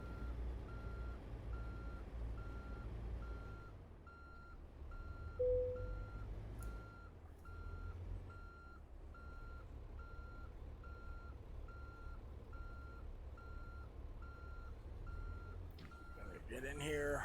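Reversing alarm on a truck in American Truck Simulator, a steady repeating beep running for most of the stretch over a low engine rumble, with a person talking over it.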